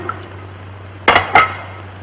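Dishes clatter twice in quick succession during washing up, sharp close clinks of crockery against a quiet background hum.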